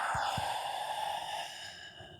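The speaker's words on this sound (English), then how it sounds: "And breathing out." A slow, soft breath out during a qigong standing exercise, a broad airy exhale that fades gradually over about two seconds, close and quiet, with no talking.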